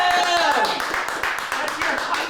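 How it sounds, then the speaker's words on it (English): A group of people clapping in a burst of applause, quick sharp claps repeating steadily under excited, overlapping voices. "Everybody, applause for 100 cats!"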